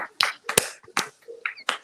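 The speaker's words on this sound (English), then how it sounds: "Y'all clap your hands." A few people clap their hands in scattered, uneven bursts, about five distinct claps, fairly close and moderately loud, with a bit of voice in between.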